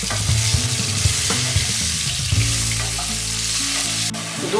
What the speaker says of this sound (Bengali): কালো জিরে ভাজা হয়ে গেছে, এখন এর মধ্যে দিয়ে দিচ্ছি আমি আলু